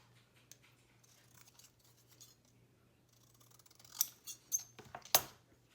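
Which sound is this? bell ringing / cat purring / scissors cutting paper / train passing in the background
scissors cutting paper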